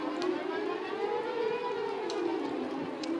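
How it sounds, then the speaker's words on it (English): Outdoor tornado warning sirens in Texas wail continuously, a steady loud rising-and-falling civil defense tone heard from a distance with no talk over it. "there must be one in McKinney if our sirens are going off"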